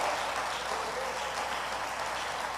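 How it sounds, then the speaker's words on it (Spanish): A church congregation claps steadily for the Lord, a dense, even wash of hands beating together that stays loud from start to finish with no gaps. "Dele fuerte las palmas al Señor"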